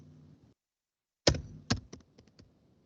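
Typing on a computer keyboard: a short burst of several crisp keystrokes, loud at first and then tapering into lighter taps, with a quiet low hum before it and no talking.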